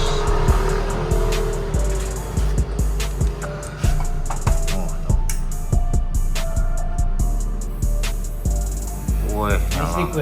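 A Kawasaki Ninja ZX25R four-cylinder motorcycle engine running at about 1000 rpm during servicing, with a loud, steady, rapid pulsing idle heard close up throughout.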